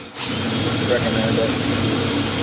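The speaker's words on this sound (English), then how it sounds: "Now, I'm going to try to hang on to this when I'm drilling it," A power drill bores a hole in a part from a 1950 Towmotor LT40 forklift, one continuous loud whirring grind that starts abruptly and holds steady, with someone speaking over it.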